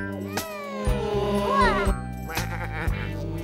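Cartoon sheep bleat in a children's animated show, several wavering, cute bleats in quick succession over a soft musical background.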